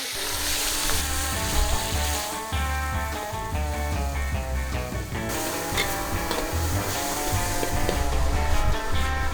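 Noodles stir-fried with squid and red fermented rice in a wok over a charcoal stove at an old Hakka Chinese restaurant in Bangkok's Yaowarat, with continuous close scraping, stirring and sizzling throughout, fairly loud and steady.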